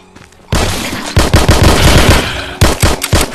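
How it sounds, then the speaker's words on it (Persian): Rapid automatic gunfire shooting zombies in the VR survival game Survival Nation, loud and close, two long sustained bursts separated by a brief gap, with no talking. "تیر میزنی به هدشات میزنی به زامبیا"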